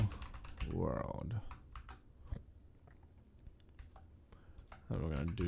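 Typing on a computer keyboard produces a scattered run of light, close key clicks, with a person talking briefly at the start and again near the end.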